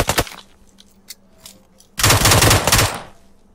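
Gunfire from the battle royale game PUBG Lite: a sharp opening burst, then a few faint scattered shots, then a loud sustained automatic volley lasting about a second before fading.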